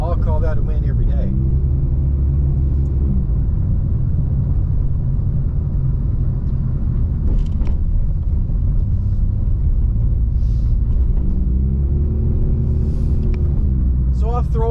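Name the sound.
2012 Honda Civic driving on winter tires, road noise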